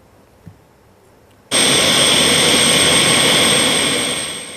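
A police helicopter flies an air patrol over beaches and roads in Lampung, its engine and rotor roar cutting in suddenly, staying loud and steady, then easing off slightly toward the end.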